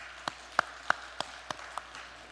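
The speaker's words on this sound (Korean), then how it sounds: "우리 부목사님들 힘내라고 박수 한번 칩시다." A few scattered, evenly spaced hand claps from a church congregation during a Sunday afternoon service, faint and sparse rather than full applause, with no talking.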